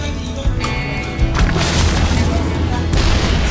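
Siege tank artillery from StarCraft 2 booms repeatedly, with dense explosive impacts in a busy battle soundscape while a commentator talks over it.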